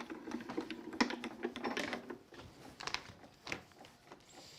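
A craft cutting machine cuts a long, thin decorative border in one pass, giving faint, rapid mechanical ticking and clattering that rises and falls over several seconds.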